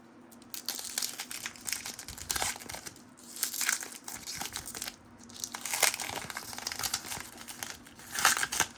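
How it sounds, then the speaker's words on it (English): Trading card packs from a Topps Archives NBA basketball box being torn open, with repeated crinkling and ripping foil wrapper bursts in uneven clusters close up, and no voices. "Love ripping cards."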